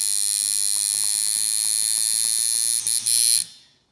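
Sidewinder V6.1 tattoo machine running at 5 volts, a steady loud electric buzz with a bright, clean tone, briefly stuttering near the end before cutting off and fading.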